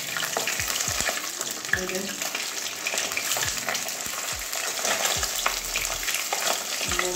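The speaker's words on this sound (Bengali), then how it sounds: "একটু কড়া করে ভাজছি।" A large deshi katla fish head fries crisp in oil in a kadai over lowered gas. A steady, close sizzle runs throughout, with spatter and soft stirring clicks, and a voice speaks briefly.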